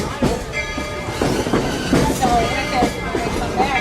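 The Walt Disney World Railroad train rolls along with a steady rumble, periodic wheel clacks and faint squeals, heard from aboard with some voices mixed in.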